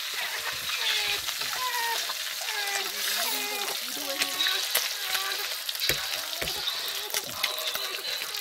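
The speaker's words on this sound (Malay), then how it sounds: "Saya masih menggunakan kuali yang sama. Saya goreng ikan tadi." Sambal petai sizzles and crackles in a wok still oily from frying fish, with steady close frying texture and a few sharper pops while a voice talks over it.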